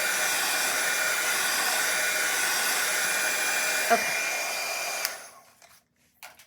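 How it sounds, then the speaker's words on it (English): A handheld hair dryer blows steadily and loudly across a watercolor floral painting for about five seconds, then cuts off, leaving near silence with a brief spoken word at the end. "Thank you, handy dandy dryer."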